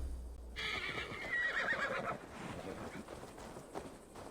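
A horse in Assassin's Creed Valhalla lets out a loud, drawn-out neigh lasting about two seconds, followed by hoof clops and game ambience.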